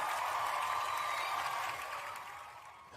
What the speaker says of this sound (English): Hand clap to the inmate